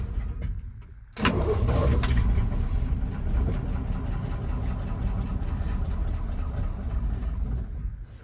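A 1968 Chevy Longhorn pickup truck with a 327 V8 cranks and fires up with a sudden burst, then settles into a loud, steady, slightly rough idle that runs on close by.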